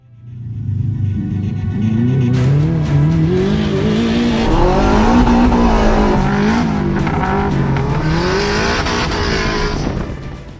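An all-wheel drive Mazda Miata races a dirt rallycross course at Byron Motorsports Park, its engine loud and close as it revs and climbs through gears, with rising and falling pitch and tire noise.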